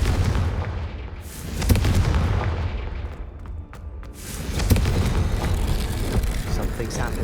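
A Confringo fire spell explodes in Hogwarts Legacy, a loud booming blast with crackling bursts repeating over a dense, continuous game soundscape.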